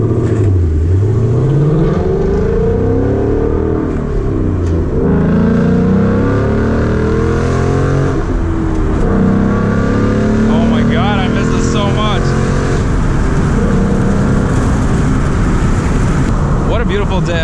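A 2019 Ford Mustang GT driving along a coastal highway, its engine droning loud and close with rising and falling pitch as it accelerates, and someone talking over it.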